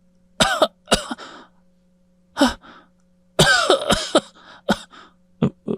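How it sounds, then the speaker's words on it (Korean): Several harsh coughs and throat-clearing bursts in irregular clusters, close and fairly loud, with brief silences between them and no talking. "그냥 기침하는 게 아니네"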